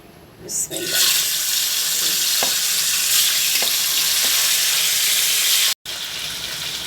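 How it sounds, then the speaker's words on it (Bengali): Pieces of rohu fish hit hot oil and burst into a loud, roaring sizzle that holds steady, with a few faint clinks and one brief dropout near the end. "রুই মাছ ভাজি করবো"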